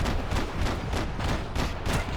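Rapid, dense gunfire from a shootout in Max Payne 3, with repeated shots and bursts running continuously and loudly over a constant wash of battle noise.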